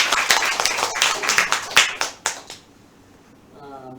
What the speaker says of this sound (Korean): 우리 박수 한번 쳐드릴게요.